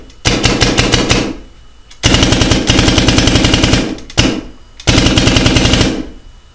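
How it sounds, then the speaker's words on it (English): An airsoft LV1 fitted with an Eclipse muffler barrel fires four rapid full-auto bursts, each a dense mechanical rattle of closely spaced shots, separated by short pauses, close and fairly loud with no talking. "let's throw the muffler onto the LV1"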